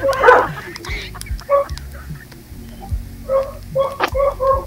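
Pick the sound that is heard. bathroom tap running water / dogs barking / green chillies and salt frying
dogs barking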